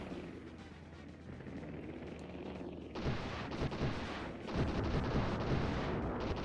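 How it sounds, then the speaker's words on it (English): Turret gunfire in a video game turret sequence: a low rumble builds into dense, loud, continuous blasts from about midway, with booming bursts layered on top and no talking. "I was not expecting a turret sequence"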